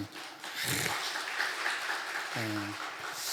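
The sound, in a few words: congregation applause for the choir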